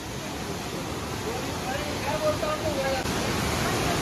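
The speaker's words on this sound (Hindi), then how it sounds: "Look at this waterfall, this is lovely." A main waterfall at a tourist spot near Gangtok gives a steady, broadband rushing roar that holds even and continuous from start to finish, loud and close.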